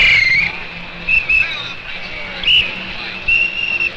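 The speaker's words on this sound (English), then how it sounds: "e Wynn Spitfire, hand-built by Dave Laycock, a strong, simple design fitted with a turbocharged Offenhauser engine developing over 600 horsepower." A Wynn Spitfire Indy race car with a turbocharged Offenhauser engine of over 600 horsepower, a high, sharp whine with repeated squealing bursts as it passes, loud and close with no talk.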